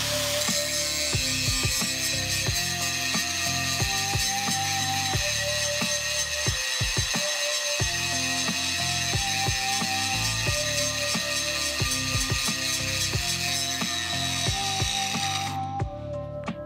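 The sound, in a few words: grinding a cast iron manifold for a spark test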